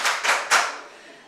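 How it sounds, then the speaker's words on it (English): Three claps from an audience at a championship coach's show, each a loud broad smack spaced about a quarter second apart, the last slightly stronger, fading into a brief room tail. "how about a big 3 claps?"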